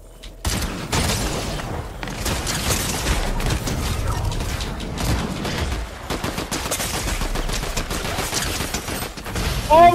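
Dense gunfire fills a video game tournament match, rapid bursts of shots and booms crowding closely together, loud and near, with sharp mechanical clicks between volleys.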